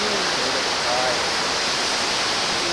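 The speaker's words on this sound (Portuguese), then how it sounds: "E a Cachoeira do Pai ali," The Cachoeira do Pai waterfall in Tepequem, Roraima, gives a loud, unbroken roar of falling water that fills the whole moment at close range.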